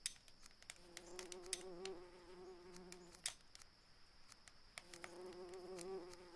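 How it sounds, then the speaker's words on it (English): Insects buzz and flit in the survival game ASKA, overlapping drones of bees and flies with sharp passing whines rising and fading, several close buzzes circling near the ear against a quiet outdoor ambience. "I can hear all sorts of insects."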